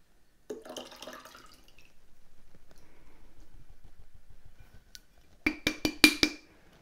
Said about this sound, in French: vous allez rincer vos grains de kéfir